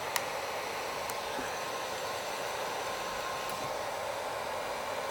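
Heat gun blowing a steady, even hiss of hot air while warming vinyl tint overlay on the front turn signal of a 2015 Ford Mustang, continuous and unbroken, with no talk.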